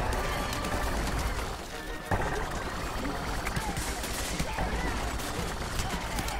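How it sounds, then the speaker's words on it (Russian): Artillery strike in Plants vs Zombies Garden Warfare 2, a dense, loud barrage of blasts and gunfire-like impacts that continues throughout, with players talking over the game's battle noise. "Там артиллерия прилетит, всех убьет."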